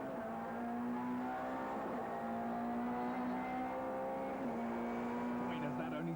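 Touring race cars roar at sustained high revs past 200 km/h, a steady droning whine with a brief gear shift, accompanied by faint commentary in the background.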